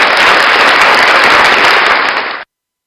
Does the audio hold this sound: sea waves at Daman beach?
no